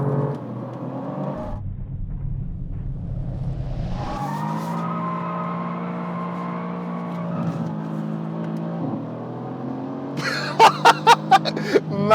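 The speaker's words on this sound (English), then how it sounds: "I'm watching James do a massive, massive drift in the AMG" Mercedes-AMG C63 S super saloon drifting, its engine holding a strained drone that shifts pitch as the tyres squeal, ending with a few sharp clattering bursts; faint and distant-sounding, with no voices.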